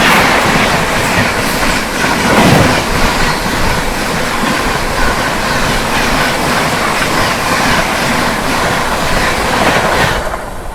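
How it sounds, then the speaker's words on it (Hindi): The Madhya Pradesh Sampark Kranti Express, bound from Hazrat Nizamuddin toward Jabalpur, thunders past near Mathura with a loud, continuous roar and rhythmic clickety-clack of wagons, close and unbroken until it eases at the end. "सामने से आ रही है हजरत निजामुद्दीन से चलकर जबलपुर की ओर जाने वाली मध्य प्रदेश संपर्क क्रांति एक्सप्रेस"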